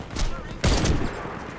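A single sharp rifle crack rings out in the shooter game Warface, preceded by a softer pop and followed by a fading tail, loud and close.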